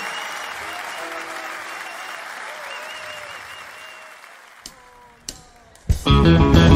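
Audience at a live concert applauding the drummer, sustained clapping and crowd noise fading slowly before drums and band music burst in loudly at the end.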